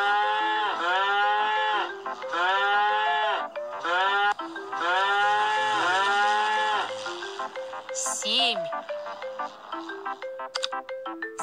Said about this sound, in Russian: Рано утром в 7 часов на луг вышли 7 коров.